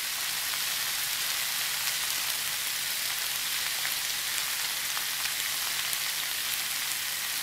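Mixed vegetables for a low-oil vegetarian curry fry in a pan, giving a steady, fine hissing sizzle that stays even and fairly soft throughout, with no talking.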